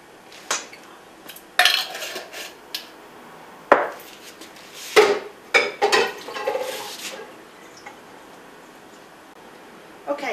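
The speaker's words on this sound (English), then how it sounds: "I'm going to scoop out about half a cup out of my bottle." Scooping about half a cup of mock tuna ingredients out of a bottle into a cup: a run of clinking, scraping utensil-on-container knocks and taps, close and fairly loud, in irregular bursts with short pauses and no talking.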